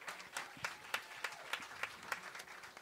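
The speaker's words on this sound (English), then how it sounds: "Let's get a round of applause for Damon, by the way." A small audience at a club concert claps steadily, with light, evenly spaced claps forming a modest round of applause, not very loud.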